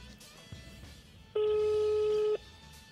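A telephone line gives a single steady, loud call-signal tone lasting about a second, heard over faint background noise with no speech.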